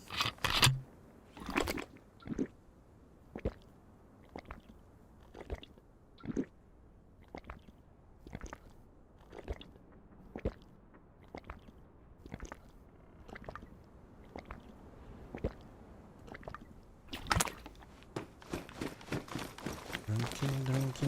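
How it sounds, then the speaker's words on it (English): A video game character drinks water, heard as a long series of soft, evenly spaced squishy gulps, roughly one per second, fairly quiet and close, with brief louder noises at the start and end. "Let's use this opportunity to drink up again."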